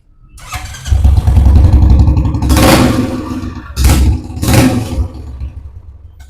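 Used motorcycle fitted with an aftermarket silencer starting up in Bangalore, a loud close engine catch followed by a throaty idle and two sharp revs before settling back.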